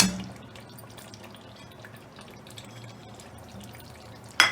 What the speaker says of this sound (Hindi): और अपना पानी तकरीबन मैं 1 गिलास डाल रही हूँ